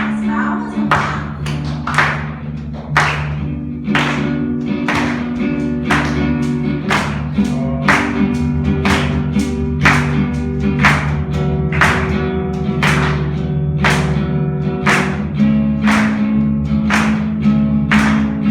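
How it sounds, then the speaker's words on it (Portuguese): Rhythmic congregational clapping at an evangelical church worship service, steady, loud and evenly paced over sustained music, with voices singing along. "As palmas, vamos lá."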